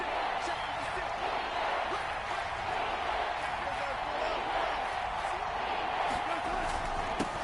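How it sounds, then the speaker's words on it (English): Stadium crowd at an American football game, a dense steady roar of cheering that holds throughout, heard in the distance beneath a broadcast commentator's voice. "The crowd getting into it as we come up on a big 3rd down."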